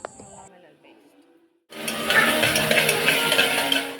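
Ginger garlic paste dropped into a pan of onions and salt with turmeric starts frying with a sudden, loud, steady sizzle after a brief quiet moment with a few light clinks.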